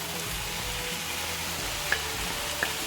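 Vegetables frying in a pan as Chinese vermicelli is added for chicken-and-vegetable cigars, a steady close sizzle with a couple of faint clinks, no talking.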